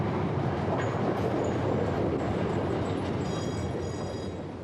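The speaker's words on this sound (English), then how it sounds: "The train arrived at Rains Park at" A train pulls into a station, a steady loud rumble of wheels and carriage noise with faint high squeals near the end as it slows.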